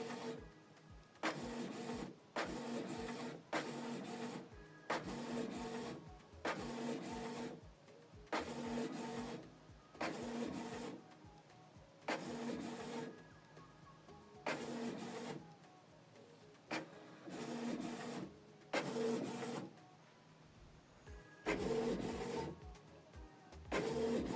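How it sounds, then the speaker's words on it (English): A Canon PIXMA TS3350 printer prints a page, a close run of about a dozen regular mechanical bursts as the print head sweeps back and forth, separated by short pauses, with no voices. "Printing the second page."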